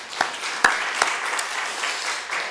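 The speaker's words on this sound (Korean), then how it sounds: "하나님께 영광의 박수 돌려드리겠습니다." Church congregation at a Sunday service clapping together in a sustained round of applause, with a few sharp louder claps standing out early on.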